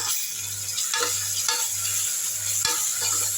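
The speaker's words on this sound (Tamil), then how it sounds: "நல்லா வதக்கி விட்டுடலாம்" Ginger garlic paste sautés in a pan for a toor dal vada curry, with a close, even sizzle broken by scattered spoon scrapes and stirring knocks under a low steady hum.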